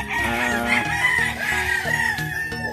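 A white gamecock rooster crows loudly and close at a backyard farm, one drawn-out cock-a-doodle-doo with clucking and other fowl sounds around it.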